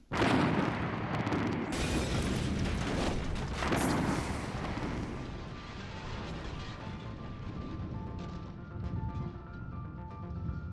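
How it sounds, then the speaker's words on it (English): A fertilizer bomb holding hundreds of pounds of explosive blows up a scrap car. A loud, close blast fills everything at once, then slowly fades into a long rumbling, crackling tail of falling debris, with no speech. "Hundreds of pounds of solid explosive transformed in a millionth of a second into an infernal ball of superheated gas"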